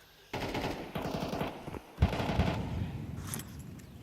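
Automatic rifle fire in Counter-Strike during a pro match, sounding as several rapid bursts of shots with short gaps between them, loud and close, with no commentary heard over it.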